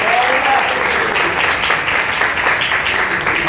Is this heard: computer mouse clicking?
no